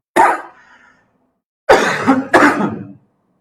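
A man coughs once, then clears his throat with two harsh, close bursts, loud against otherwise silent surroundings.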